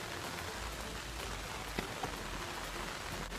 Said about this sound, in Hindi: बाहर बारिश गिरा है